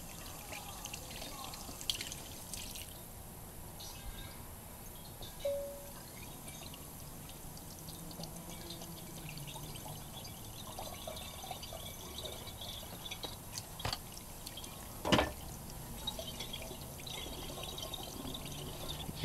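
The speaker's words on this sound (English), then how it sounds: "So you're just gonna keep filling this up with water." Water fills an emptied propane canister with a soft, continuous trickle and occasional drips and gurgles, quiet and close, with a sharper splash or clunk around the middle.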